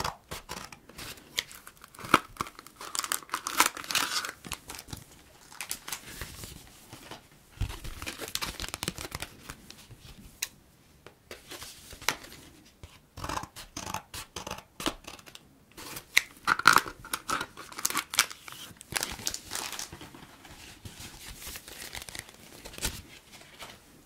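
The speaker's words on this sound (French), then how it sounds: "Un blister carte." A One Piece trading card booster blister pack is opened with close, intermittent plastic crinkling, tearing and snipping that comes and goes in short bursts, with no voices.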